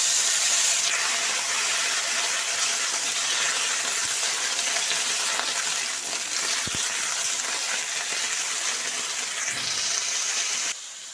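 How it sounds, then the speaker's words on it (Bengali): Chopped spiny gourd hits hot oil already fried with five-spice seeds, giving a steady, loud, close sizzling hiss that runs unbroken throughout, with no voices. "এখন দিয়ে দিচ্ছি কেটে রাখা কাঁকরোলটা।"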